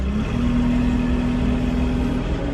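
A New Holland T5 tractor engine runs steadily nearby with a constant mid-pitched hum and low rumble. It is working with a Sanderson loader and bucket beside a muck spreader.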